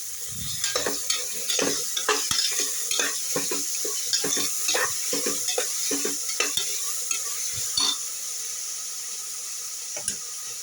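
Tomato frying in a pan while being stirred, a constant hissing sizzle broken by many quick scraping and tapping strokes of the spoon in an uneven rhythm, loud and close.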